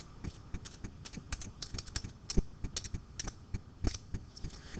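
Fingers type on a computer keyboard, a quick irregular run of close, crisp key clicks with occasional louder taps and brief pauses.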